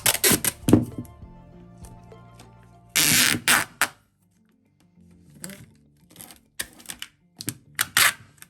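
Adhesive repair tape for greenhouse plastic film pulled off a roll in several bursts, a loud ripping rasp around the middle and shorter sharp tearing strips later, separated by quiet gaps.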